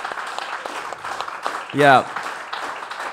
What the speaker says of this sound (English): Keep that clapping going.